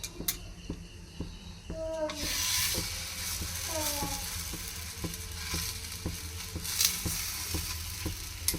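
Small wheat-flour parathas fry in ghee in a pan, giving a continuous close sizzle with periodic scraping and clinking as they are turned, while voices speak faintly in the background.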